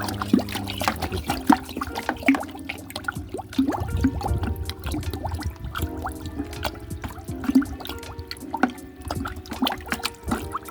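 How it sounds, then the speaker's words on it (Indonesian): Humic acid being stirred into water in a container until it dissolves for melon plants grown in polybags, with soft sloshing, trickling and small clinks of the stirrer repeating close by for about ten seconds. "Kemudian kita aduk"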